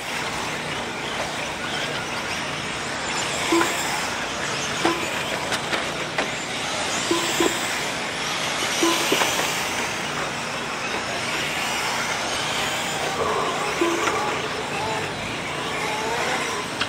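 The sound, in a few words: RC 4WD short course trucks racing on a track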